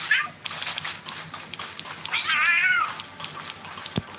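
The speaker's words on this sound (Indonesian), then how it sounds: "Kucing." A cat meows in a video game set in Tower of Fantasy, one drawn-out rising and falling call near the middle, over a steady game ambience with a brief thump near the end.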